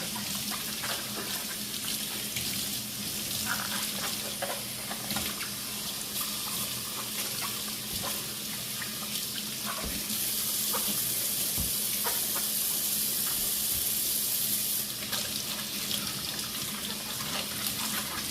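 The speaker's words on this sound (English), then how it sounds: "just wash the cabbage, rub your hand all over it, get it clean" Tap water runs steadily into a sink while a head of cabbage is rubbed clean by hand, giving a constant close hiss and splash with faint handling noises and no speech.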